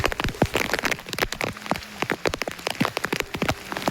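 Heavy rain pattering and splashing close by in dense, irregular drops, with no voices.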